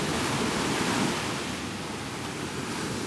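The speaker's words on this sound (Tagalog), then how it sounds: "Dagat." Sea waves wash steadily onto a beach at a resort in Sablayan, Occidental Mindoro, a loud continuous hiss of surf mixed with wind buffeting the microphone, with no voices.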